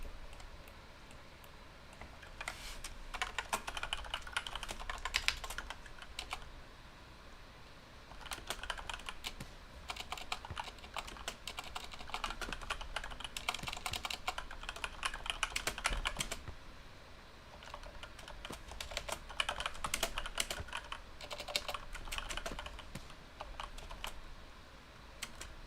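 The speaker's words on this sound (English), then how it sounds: "Sorry for the typing." Steady, busy computer keyboard typing during a livestreamed Overwatch esports broadcast, close and continuous with dense clicking bursts over quiet room noise, no talk.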